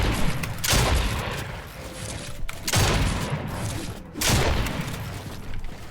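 Loud shots ring out in a Fortnite fight, three heavy blasts spaced a couple of seconds apart over a steady wash of game noise.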